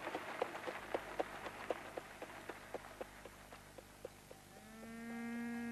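A cow lows in a long, loud moo that swells in at the end, following a run of regular dull thumps.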